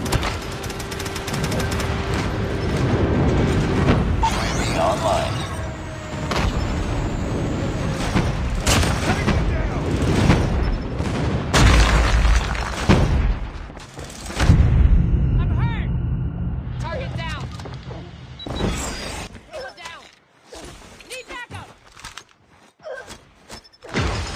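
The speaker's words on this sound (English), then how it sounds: "Friendly airstrike incoming." Airstrike explosions in the mobile shooter game Call of Duty Mobile, with booming blasts and rapid gunfire in dense clusters, mixed with in-game announcer voice lines.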